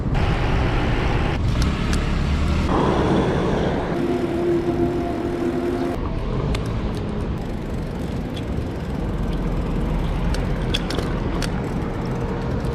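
Road traffic passing in a residential street in the Philippines: a steady, fairly loud rumble of car and motorbike engines going by, with a passing horn-like tone and no talk.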